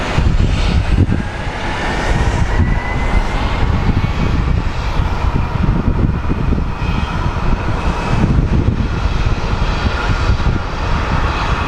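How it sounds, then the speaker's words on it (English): SkyWest jet airliner departing Phoenix Sky Harbor for Sioux Falls, a loud, close, sustained engine roar with a rising whine and some wind buffeting across the whole stretch. "Up next we have SkyWest 3033 going to Sioux Falls."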